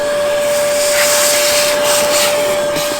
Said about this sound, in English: So I've just vacuumed all the metal filings up.